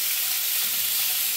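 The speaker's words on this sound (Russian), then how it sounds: "Вот на этих последних сковородках сыпем лук" Onions sizzle and hiss steadily in a hot pan, a close, continuous frying sound with no voices.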